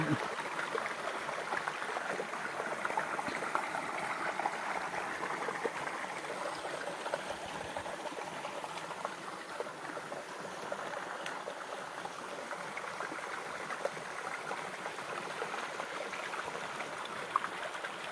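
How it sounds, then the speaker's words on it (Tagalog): Steady flowing spring-fed stream water in a forest, a continuous rushing and babbling that stays even throughout, with no voices. "malinis tuloy tuloy ang daloy ng tubig"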